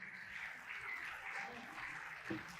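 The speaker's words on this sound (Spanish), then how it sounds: "un aplauso al Señor" A church congregation applauds during a Spanish-language sermon, a faint, steady wash of clapping that swells slightly before a brief louder thump near the end.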